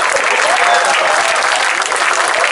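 Thick, continuous applause from an audience at a live comedy show, loud and close, with no letup across its short span.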